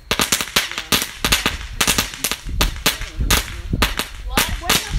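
Fourth of July fireworks popping in a rapid, irregular string of sharp, loud cracks, several close together and a few spaced apart, with no talk over them.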